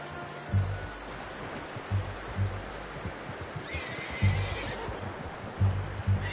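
A horse in Red Dead Redemption 2 whinnies, its high neigh rising partway through over a bed of low, rhythmic hoof thuds and a soft, wave-like ambient wash.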